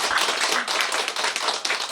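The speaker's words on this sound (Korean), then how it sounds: "일단 큰 박수로 한번." An audience at a talk event claps together for incoming speakers, a dense, even burst of many hands that fills the whole moment.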